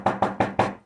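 Four evenly spaced knocks on a wooden door, close and distinct, with nothing else heard.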